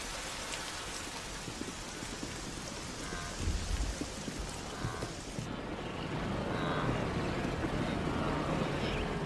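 Rain falls steadily in the African wild, a continuous close hiss with scattered heavier drops and a faint low rumble underneath, growing slightly denser toward the end.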